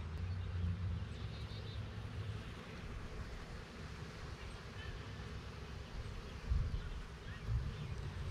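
Honey bees at a hive by blueberry fields buzz in a steady, close drone that continues without a break, with a faint background hiss like wind or distant surf.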